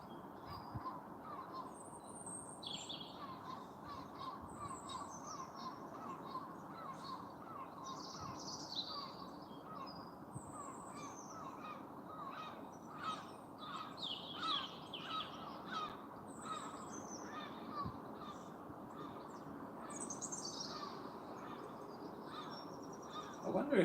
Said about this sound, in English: birds are going for it now.